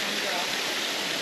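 A flowing river in a rural spot, steady broadband rushing water noise heard up close with no pauses over a brief moment.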